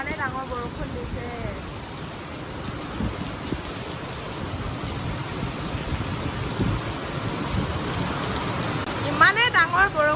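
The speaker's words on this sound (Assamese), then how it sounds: "ইমানেই ডাঙৰ বৰষুণ দিছে" Heavy rain pouring steadily during a storm with strong wind, a dense constant hiss close by across the whole stretch, with a faint voice breaking in near the end.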